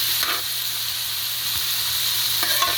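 Diced potatoes and corned beef sizzle steadily in a hot pan, a dense close hiss of frying with faint scraping stirs near the start and end, no voices.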